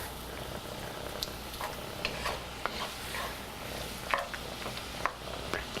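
Shrimp sizzle and simmer in a hot pan, a steady bubbling hiss with occasional pops and faint stirring clinks, close and without talk.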